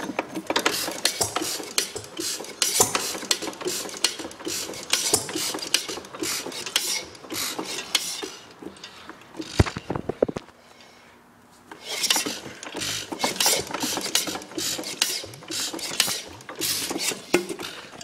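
A Stover K stationary engine cranked and running: a steady, busy mechanical clatter of clicking and ratcheting, briefly dropping to near quiet partway through before the rattling picks up again, with no talking.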